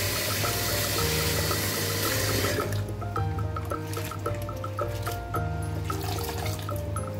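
Bitter gourd washed under running tap water to rinse off salt, a steady loud gush of water with splashing and trickling that briefly shifts in tone partway through.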